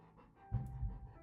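An excited dog pants rapidly in short, breathy bursts, faint and close by, with no talking during the panting.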